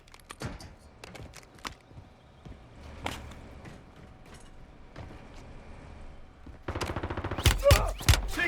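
Video game gunfire from a solo sniping session: scattered sharp shots early on, then a dense burst of rapid automatic fire near the end, moderately loud over a low background hum.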